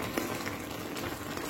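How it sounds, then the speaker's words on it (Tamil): Snake gourd kootu boiling in a pot on the stove, giving a steady, soft bubbling and sizzling hiss throughout with no talking. "நல்லா கொதிக்க ஆரம்பிச்சிருது பாருங்க."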